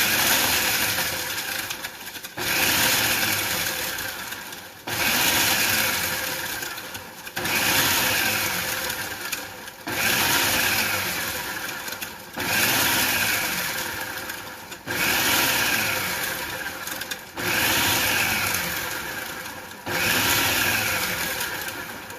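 A food processor chopping bread whirs loudly in repeated pulses of about two seconds each, with a coarse grinding roar and brief pauses between bursts.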